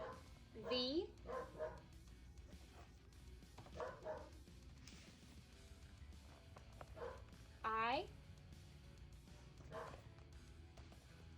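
A dog barks and yips several times indoors, short rising bursts spread across the stretch with a louder cluster near the end, while a person talks in between.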